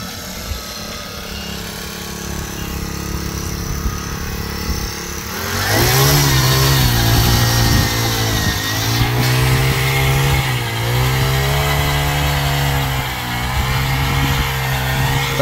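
Small four-stroke 2.5 HP engine on a Baliraja Yantra cultivator in a cabbage field, idling roughly and then revving up to a louder steady drone that wavers slightly in pitch.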